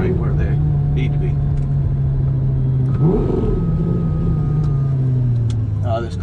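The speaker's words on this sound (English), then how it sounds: "This car sounds absolutely incredible with the new fab speed system and cats deleted on it." A Lamborghini Gallardo with a Fabspeed exhaust and deleted catalytic converters runs at a steady low drone, then a brief rev rises around the middle and settles back, heard from close by.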